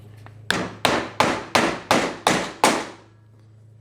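Seven sharp, ringing hammer blows driving a metal collar into a Toro walk-behind lawn mower wheel, at an even, quick rhythm, each striking loudly and close, then a low hum remains.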